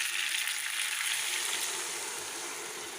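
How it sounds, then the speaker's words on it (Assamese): Hot water hitting a pan of hot oil and fish with outenga (elephant apple), a loud, close hissing rush that steadily fades over a few seconds, with no voices. "এতিয়া দি দিম পানী, গৰম পানী।"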